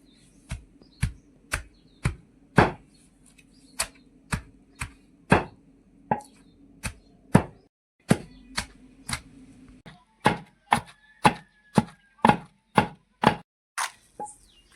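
Green chickpeas being chopped finely with a knife on a board for chutney, a series of crisp separate chops with short pauses between, close up, with no talking.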